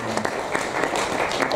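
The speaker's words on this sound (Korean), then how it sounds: "위로 박수 한번 주시고" Scattered applause from a modest church congregation during a Sunday service, steady clapping that continues throughout at moderate volume.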